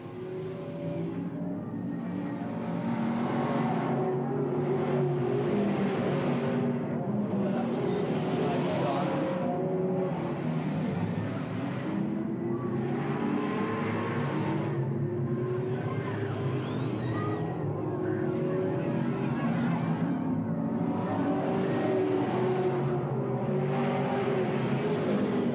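Race cars circling Willamette Speedway in 1985, engines swelling and fading in a regular rhythm as they pass again and again, moderately distant under crowd and track ambience.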